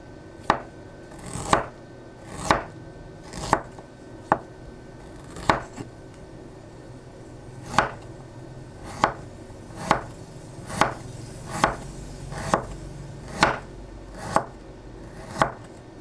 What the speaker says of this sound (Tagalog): Hiwain na natin siya ng manipis.